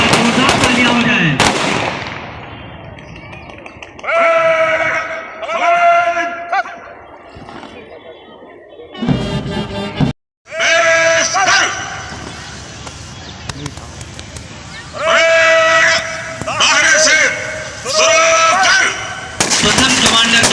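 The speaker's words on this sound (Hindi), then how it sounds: "प्रथम कमांडर का आदेश और गोलियां आकाश की ओर सड़सड़ाहट के साथ" Police on a parade ground fire ceremonial volleys into the sky during a Republic Day program, with sharp bursts of gunfire that come in repeated rounds and ring out loud and close over an amplified announcer's voice.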